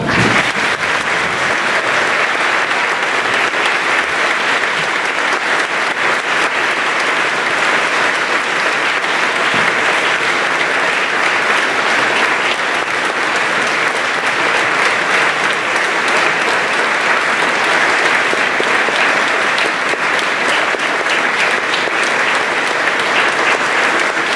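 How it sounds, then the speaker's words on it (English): Sustained applause from a seated audience at a senior school awards ceremony, steady and dense for the whole stretch with no break, a loud, even wash of many hands clapping together. "give a big round of applause for our School Ducks 2018-19, Aidan Jordan"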